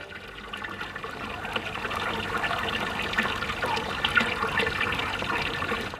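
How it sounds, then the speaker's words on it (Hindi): Water pours steadily into a barrel drum while making bijamrit organic fertilizer, a continuous splashing, gurgling rush that holds fairly loud throughout with no talk. "पानी से ड्रम को पूरा भर दिया है।"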